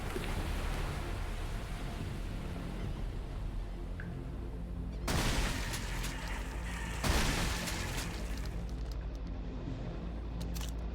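Two loud shotgun blasts in the Divine Frequency video game, separated by about two seconds, over a low rumbling ambient drone.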